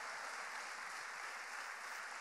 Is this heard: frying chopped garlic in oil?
no